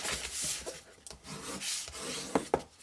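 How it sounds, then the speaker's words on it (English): Paper score lines are folded and burnished by hand, giving quiet close rubbing and sliding strokes with a couple of soft taps near the end. "so fold and burnish your score lines."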